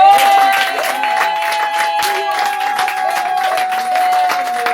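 Church congregation applauding and cheering in praise during a service, steady dense clapping lasting throughout, with sustained tones and voices mixed in beneath the applause.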